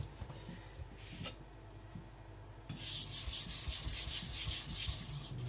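A Tojiro white steel (shirogami) nakiri is thinned on a sharpening stone. Rhythmic rasping strokes grind close by, quieter at first and then louder and denser over the last half.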